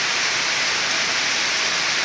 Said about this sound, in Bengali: কী সুন্দর বৃষ্টিটা পড়ছে